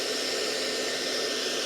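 A hairdryer blows a steady, even stream of air with a ping pong ball floating in the airstream, a constant broadband whoosh held close and loud for the whole moment, with no voices.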